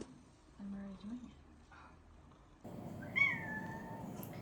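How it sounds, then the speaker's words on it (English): A young female cat gives one clear, sweet, rising-and-falling meow near the end, after some quiet, low murmuring sounds in a calm indoor room. "She has the sweetest little meow"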